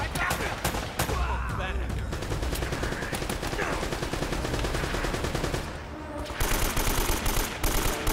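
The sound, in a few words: gunfire from the video game Uncharted: Drake's Fortune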